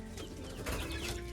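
Chickens on a pig farm in Kokrajhar flap and cluck as they scramble for grain, a dense close flurry of wingbeats and clucks that swells near the end, with no talk over it.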